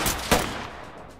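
Gunfire in the tactical shooter Ready Or Not: a sharp near shot opening the clip and a second heavy report about a third of a second later, each trailing into a ringing echo.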